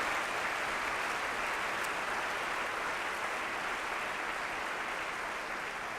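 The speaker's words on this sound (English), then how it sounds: "let's give her a round of applause" Audience applause at a State of the District address, a broad, continuous wash of clapping from a large crowd, steady and fairly distant in a big hall.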